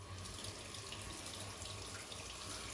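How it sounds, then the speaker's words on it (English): A razor rinsed under a running bathroom tap during a wet shave, a constant, faint rush of water throughout. "So I rinse my razor kind of like this, so I don't get any water inside"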